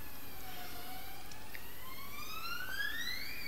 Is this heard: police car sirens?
yes